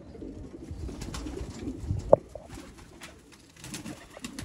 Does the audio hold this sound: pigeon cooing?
yes